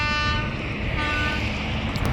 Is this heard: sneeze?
no